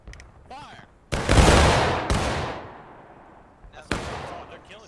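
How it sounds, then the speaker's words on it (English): A musket volley in a War of Rights battle, one sharp massed crack that rolls into a long echoing tail, followed by a second loud report, with a voice calling commands just before. "Alright, take aim. Aim. Fire."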